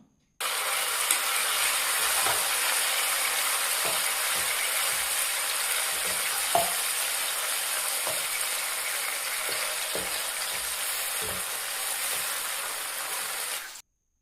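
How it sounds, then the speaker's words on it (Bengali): Marinated chicken frying in a pan for restaurant-style mixed fried rice, a steady loud sizzle running for about thirteen seconds with occasional small pops and clicks, no voices. "এরপরে ম্যারিনেশন করতে রেখে দেওয়া চিকেনগুলোকে আমি ভেজে নেবো"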